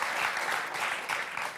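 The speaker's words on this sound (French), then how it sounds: "on vous applaudit très fort, Georges, Laura" A TV game show studio audience on Motus gives a loud, dense burst of applause for the contestants, sustained and even with no talk over it.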